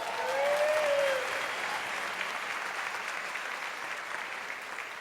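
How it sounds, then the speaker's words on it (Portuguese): An audience at a church sermon bursts into applause, a dense, steady wash of clapping that swells early and then holds at an even level for several seconds without letting up. "Pode aplaudir."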